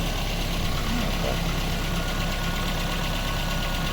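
A VAZ 21010 car engine idles steadily after warming up, a constant low mechanical hum with faint knocking texture running unbroken from start to finish.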